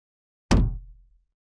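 A single wooden percussion hit with a boingy, resonant middle, sharp attack and a low tail decaying over about half a second, close and alone.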